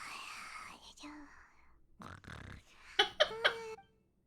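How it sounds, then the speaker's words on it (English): Paimon, the floating companion in the Genshin Impact video game, snores in a squeaky, whistly voice: soft breathy snuffles, then three sharp high-pitched snore squeaks near the end, close and alone. "Just gonna interrupt her snoring."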